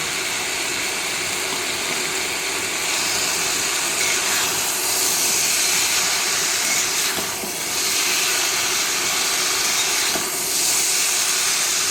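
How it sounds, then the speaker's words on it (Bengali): Vegetables fry with dried fish in a curry pan, making a loud, even hiss of sizzling that holds steady from start to finish with brief swells. "সবজিগুলো দিয়ে ভাজা ভাজা।"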